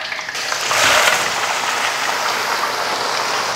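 Chicken dropped into hot oil with whole spices and curry leaves for a Tamil country-chicken curry, a loud steady sizzle that swells at first then settles into a constant frying hiss.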